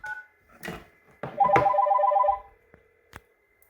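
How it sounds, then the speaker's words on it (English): A Yealink T33G VoIP desk phone rings with an incoming call: a short burst of electronic warbling ring tone, close and clear, between brief handling clicks. "So I'll simulate an incoming call into this phone."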